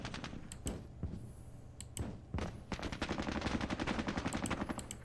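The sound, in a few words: gunfire in video game Squad Battles Vietnam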